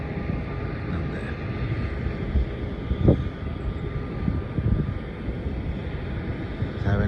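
A Sri Lankan Airlines airliner comes in to land at Melbourne Airport on a flight from Sri Lanka, its engines giving a low distant rumbling roar that holds steady throughout, with wind buffeting the microphone.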